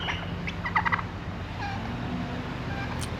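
A turkey gobbles in a quick warbling burst over steady low rumbling background noise at a farm in Bird-in-Hand, Lancaster County, followed by a few fainter calls.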